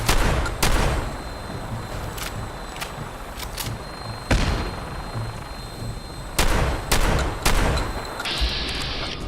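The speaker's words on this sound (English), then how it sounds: "I hear rockets firing." Gunner vertibird firing rockets in the Sim Settlements 2 video game, a series of sharp booming blasts scattered over steady rumbling background, some bursts close and loud, others more distant.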